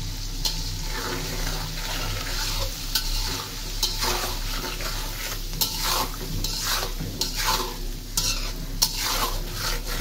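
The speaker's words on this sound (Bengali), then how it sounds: "ডিমটা ফ্রাই হোক" Quail eggs fry in hot oil, a steady loud sizzle crackling close by with repeated scraping stirs and faint utensil knocks throughout.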